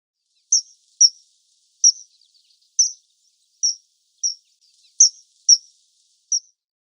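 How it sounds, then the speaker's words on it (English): Kingfisher calling in a series of about nine short, sharp, high-pitched chirps, spaced irregularly and heard clearly alone against silence. "kingfisher,"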